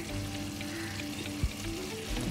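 Adobo sizzling and frying in a pan while being stirred, a steady close crackle with occasional scrapes of the utensil against the pan, no talking.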